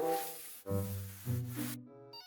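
A telephone rings in the cleaning horror game Just Cleaning, a clear electronic ringtone of sustained notes that step between pitches in three phrases, then cut off abruptly, with no talk over it.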